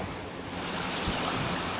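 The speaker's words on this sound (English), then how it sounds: "The waves are crazy." Rough ocean waves on a boat ride near Krabi, Thailand, a constant roaring wash of water and wind noise, close and loud, with no talk.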